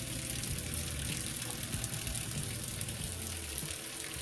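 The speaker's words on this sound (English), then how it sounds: "I'm gonna start by turning on the faucet, get my hands a little wet" Water runs steadily from a faucet into a sink for hand washing, a continuous broadband splashing hiss with no talking.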